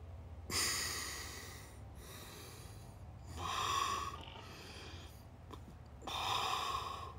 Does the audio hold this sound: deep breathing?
yes